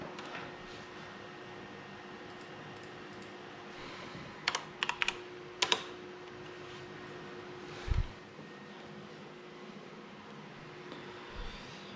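Typing on a computer keyboard while setting up pfSense on an old MacBook: a few short clusters of close, sharp key clicks over a steady faint room hum, with one soft thump later and no speech.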